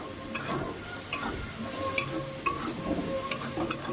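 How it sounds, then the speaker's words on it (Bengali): Prawns fried in a pan while being stirred, a steady crackling sizzle broken by sharp regular clicks of the spoon against the pan, close and even throughout. "দিয়ে চিংড়ি মাছটাকে এবার ভালো করে লাল লাল করে ভেজে নিতে হবে।"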